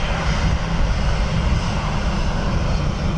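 An aircraft landing on runway 28 left at Dublin Airport in crosswinds gives a constant, loud, broadband engine roar that holds steady throughout, with no voices.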